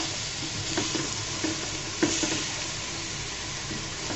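Snake gourd frying in a pan as it is stirred into spices, giving a constant close sizzle with soft scraping and clinking stirs every half second or so.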